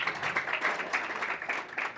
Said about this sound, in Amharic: ሞራልን ጭብጨባ ሓደ ግዜ ንሃብ